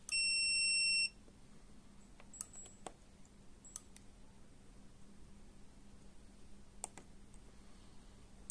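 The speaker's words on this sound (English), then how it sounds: "took my multimeter and basically just checked for continuity across both sides of each fuse" A multimeter gives a single loud, steady beep lasting about a second at the start of a continuity check across fuses, followed by faint clicks and quiet handling in a shed.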